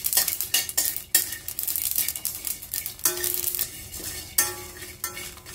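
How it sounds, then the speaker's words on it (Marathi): Whole spices for Kolhapur-style bhogi bhaji dry-roasting in a pan, with a utensil scraping and stirring in irregular bursts, sharp clinks against the metal and a faint dry crackle between strokes, close and loud with no talking. "भाजीसाठी लागणारे हे सर्व मसाले आपण भाजून घ्यायचे आहेत."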